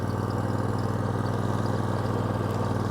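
A Kubota T1870 lawn tractor engine runs while the machine reverses, producing a steady, close, droning hum with an even low rumble and no voices.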